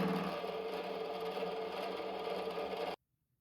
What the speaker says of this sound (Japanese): 結構大きな音を立てながら削るのでちょっと怖いです。